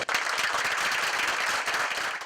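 Applause from attendees at a community college district governing board meeting after a vote, steady dense clapping filling the room at moderate level with no talk over it.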